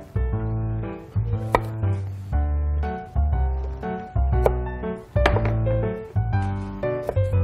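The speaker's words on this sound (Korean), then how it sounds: "이렇게 하시고 이제 6에서 8등분 정도 잘라주시면 되거든요" A knife cuts peeled tomatoes into six to eight wedges on a board, giving a few sharp knocks over steady background music.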